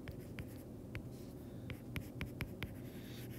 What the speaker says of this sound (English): I'll just write some notes here.